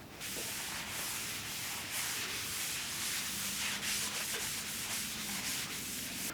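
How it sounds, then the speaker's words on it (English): Steady rubbing and wiping of mineral spirits across an American walnut dining table slab, a continuous broadband scrubbing texture with no pauses, close and moderately loud with no talking. "We're gonna rub a little bit of mineral spirits on it so we can see what this might look like when we're done."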